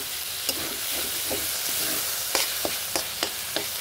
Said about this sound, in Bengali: এরকম করে সুন্দর করে এটা ভেজে নেব।